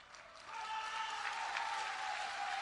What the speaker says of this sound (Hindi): ये देखो महिलाएं ताली बजा रही हैं।